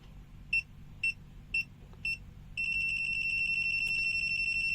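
A Habotest HT125B multimeter's non-contact voltage detector gives four short high beeps in a steady rhythm, then switches to a continuous tone over faint background hum.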